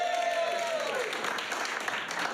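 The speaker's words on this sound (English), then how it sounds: "Big round of applause." An audience at a comedy improv show applauds, a steady wash of clapping with some crowd noise and a brief voice at the start.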